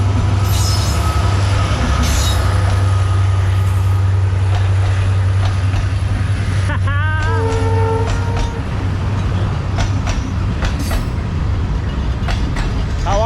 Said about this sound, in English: And even better, the train passing in front.